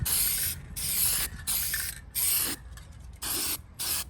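Rust-Oleum hammered spray paint hisses from an aerosol can onto pickup truck trim in six or seven close, loud bursts, each about half a second long, separated by short silent pauses.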